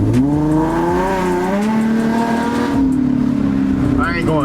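An Infiniti G35 coupe engine runs rough with a random multiple misfire, a loud, steady engine drone with uneven pitch wavering throughout, heard up close with no one talking over it.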